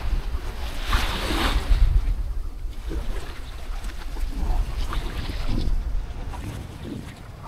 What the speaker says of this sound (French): Un tout petit peu plus de vagues là.